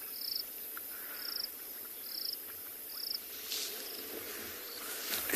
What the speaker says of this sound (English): You can hear some bubbling casina frogs in the background.